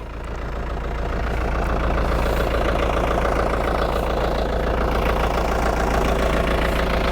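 Tractor engine running steadily while a drape net boom is brought around to the front, a constant close mid-to-low rumble with no talk.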